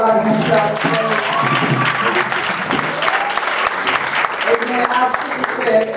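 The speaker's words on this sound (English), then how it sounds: "Come on, give God a hand clap." A Pentecostal church congregation claps loudly during a gospel service, dense applause mixed with cheering and voices calling out, sustained at close range throughout.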